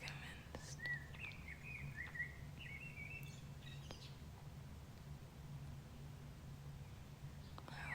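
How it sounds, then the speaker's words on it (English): Birds singing at 4 am on a summer morning, scattered high chirps and short calls at a moderate distance over a steady low background hum, faint and intermittent throughout. "I still think that the birds are happy."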